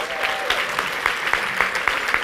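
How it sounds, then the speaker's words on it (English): An audience claps at a gathering, a steady stream of many hands, moderately loud and continuous, with a few sharper individual claps standing out. "That deserves a round of applause."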